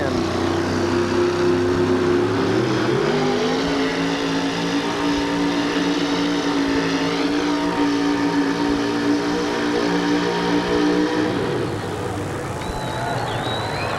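A 1978 GMC pulling truck with an exotic all-aluminum Rodak engine revs hard in a steady, loud roar at an arena event. The pitch climbs early, holds for about ten seconds, then drops off.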